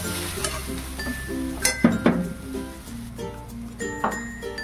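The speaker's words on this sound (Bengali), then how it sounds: "দেখো আবারও কিন্তু আমি একটু ভালো করে নাড়াচাড়া করব।" Spiced food with a little garam masala is stirred in a pan, giving soft sizzling under clinking utensil strokes against the metal, with a few sharper scrapes.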